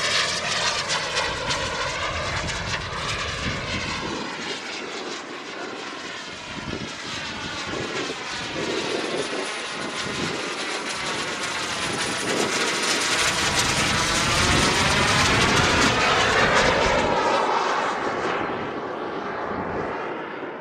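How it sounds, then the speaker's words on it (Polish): Jet-powered glider passing overhead at an airfield, a loud roaring whine that swells and sweeps across as it flies by, with the pitch shifting as it passes and no one talking. "to naprawdę był szybowiec z silnikiem odrzutowym"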